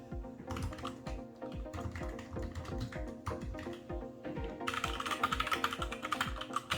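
Rapid typing on a Keychron K6 mechanical keyboard, close and crisp, with irregular keystroke bursts that grow brighter and busier near the end.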